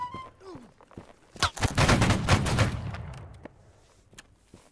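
A line of soldiers in Holdfast: Nations at War fires a musket volley, one loud ragged crash of many shots merging over about a second, then fading, with brief talk before it.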